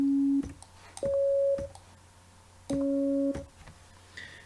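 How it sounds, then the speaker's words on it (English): Two sine wave oscillators in an FL Studio synth sound as pure, steady electronic tones, one low and one higher, switching on and off in short held beeps, sometimes together, over faint background noise. "we now have 2 sine waves playing"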